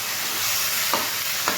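Food stir-frying in a pan in a home kitchen, a steady close sizzle of oil with two short scraping stirs of a spatula near the end.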